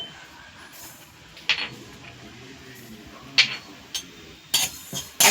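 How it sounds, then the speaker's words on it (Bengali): Whole coriander, panch phoron and cumin dry-frying over a low flame in a wok, giving scattered soft crackles and light clinks that are sparse and irregular against a quiet background, close by. "মশলাটা কি সুন্দর আস্তে আস্তে ফুটফুট করে একটা শব্দ হচ্ছে"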